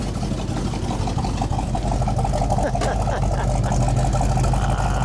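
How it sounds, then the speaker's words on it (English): A 1969 Ford Mustang Mach 1's 351 V8 exhaust rumbles deeply and steadily at idle throughout, loud and continuous with a low throaty drone. "Get a little of that rumble from the back."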